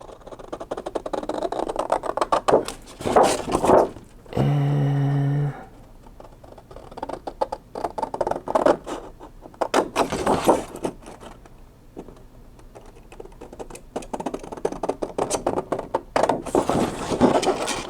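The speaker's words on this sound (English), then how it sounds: "I am just going to use my scissors to cut this out kind of carefully." Scissors cut carefully through cereal-box chipboard in repeated close snips and crunchy bursts with short pauses between them. A steady buzzing tone breaks in for about a second partway through.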